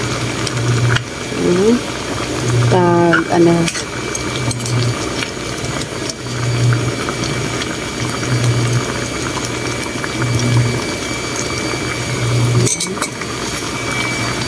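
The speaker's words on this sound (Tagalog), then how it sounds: "Ginisa siya sa sibuyas," Pork adobo with onion and garlic sizzles and bubbles steadily in a pan, with a few clinks of utensils and a faint hum in the background, and a voice speaks briefly.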